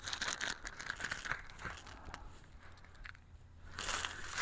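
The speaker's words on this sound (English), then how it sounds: "He's eating almost half a bag." Forrest, a pet deer, munches feed from a bag, with close crinkling of the bag and crunchy chewing in irregular bursts that fade briefly before picking up again.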